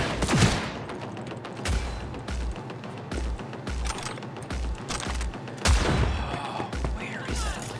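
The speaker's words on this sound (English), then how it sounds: "Keep firing, goddammit!" Heavy sustained gunfire from the Cyberpunk 2077 video game, a dense fusillade of rapid shots and thumping impacts running throughout, with louder bursts near the start and again around the middle.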